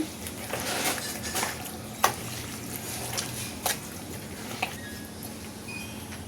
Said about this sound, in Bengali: টমেটো 1 চামচ করে হবে। এটাকে আমি ভালো করে এখন মাখিয়ে নিচ্ছি।